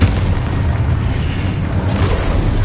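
Loud, sustained explosive blasts from a Confringo fire spell in the Hogwarts Legacy video game, a dense rumbling boom filling nearly three seconds with no pause, layered over continuous low-end combat noise.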